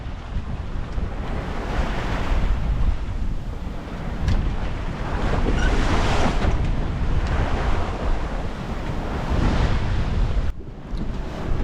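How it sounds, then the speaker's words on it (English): Strong gusting wind and breaking waves rush around a sailboat off the Bahamas, a loud continuous roar that swells and fades, with heavy wind buffeting on the microphone and a brief dip near the end. "And wind's gusting pretty good, so, you know, just another day on the water."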